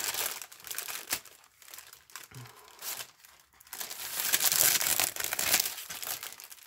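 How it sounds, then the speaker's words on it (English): Plastic product packaging from an online order is crinkled and torn open up close, bursts of loud rustling and ripping with short pauses between, no talk. "I guess I'm gonna have to rip it open to get it out"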